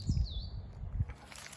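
Robins sing in an English garden in spring, a high thin warbling phrase heard softly at a distance over low rumbling background noise, with fainter chirps following.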